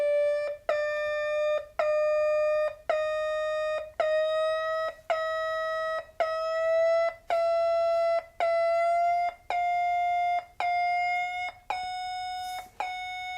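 Loud electronic alarm from an NE555 circuit and loudspeaker beeping about a dozen times in an even rhythm, each tone lasting nearly a second, its pitch slowly creeping higher as a variable resistor is adjusted.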